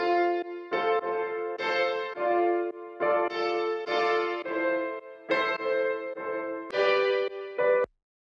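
A somewhat rough-sounding piano plays a steady sequence of struck chords, each with a clear attack and short sustain, evenly paced for several bars, heard alone at moderate volume before cutting off.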